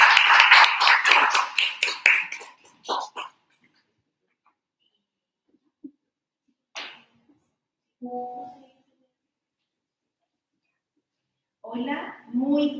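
An audience claps in a burst of applause welcoming a speaker at a Chile Atiende information talk. The clapping is loud at first, then thins and fades within about three seconds, followed by near silence with a few faint knocks before a voice begins.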